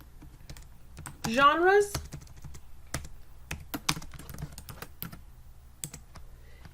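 Typing on a computer keyboard while a Google Slides document is edited, with scattered key clicks running through the clip; a short burst of speech is heard near the start.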